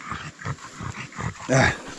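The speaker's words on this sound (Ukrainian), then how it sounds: "О, собаки набігались." Dogs resting in a car after a mushroom-hunting walk in the Carpathian woods, making a few rough, breathy huffs and low growl-like vocal bursts close by, ending with a louder, harsher burst.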